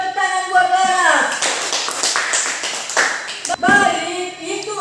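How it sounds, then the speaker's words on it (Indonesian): A classroom group gives a short burst of applause for a student named Laras, the clapping rising amid voices and then fading as speech resumes. "Tepuk tangan buat Laras."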